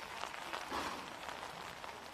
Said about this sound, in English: the rain had held off, but it's here in earnest now.